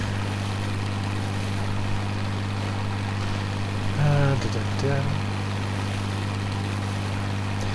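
A boat engine in the video game DayZ drones steadily, a loud low continuous hum under light background noise, rising briefly for a second or so midway before settling back to an even idle.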